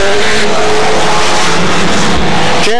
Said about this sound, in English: James Clark is in trouble as he goes through the chicane